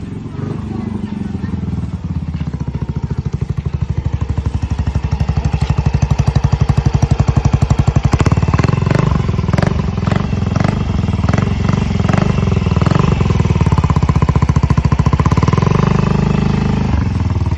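A Yamaha Mio Gear 125 scooter with a newly installed Apido V4 exhaust pipe idles and revs with a loud, throaty exhaust rumble, clattering steadily throughout and swelling partway through.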